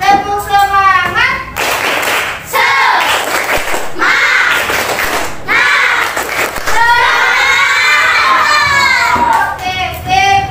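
Schoolchildren in a classroom perform a rhythmic clapping chant with their teacher, bursts of sharp unison claps alternating with loud sung and shouted children's voices.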